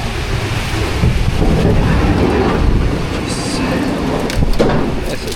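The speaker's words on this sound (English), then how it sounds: "A lot of rain." Heavy rain from a storm on a farm pours in a dense, steady roar close by, with gusty surges and no break throughout.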